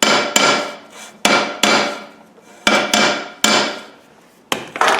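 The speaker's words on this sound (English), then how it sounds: "Hammer." A hammer strikes metal about eight times in irregular bursts while fitting a gearbox transfer box, each sharp blow ringing out briefly before the next, close and loud.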